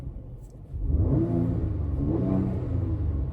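A Mercedes-Benz GLC 43 AMG 3.0 V6 biturbo engine revs up from a low idle into a loud, throaty exhaust roar that holds steady, heard up close with no talking.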